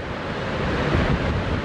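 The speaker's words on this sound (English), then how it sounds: "It's a windy day" Wind gusts across an open spot near a waterfall, a steady broadband rush with a slight swell midway, loud and close with no voices.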